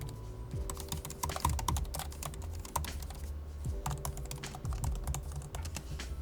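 Brisk, steady typing on a MacBook Pro laptop keyboard with an anodized aluminum deck, many quick close clicks in a continuous patter with a few heavier keystrokes.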